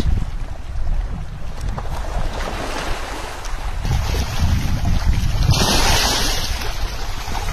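Strong wind blows across a pangas catfish pond, roaring and buffeting the microphone in steady gusts that build louder toward the end, with a faint wash of water beneath.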